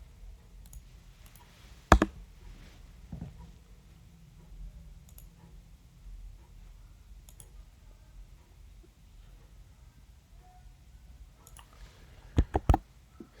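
Mouse clicks on an update button in a Laravel e-commerce admin page: one sharp click near the start, then a quick cluster of three near the end, over a faint room hum.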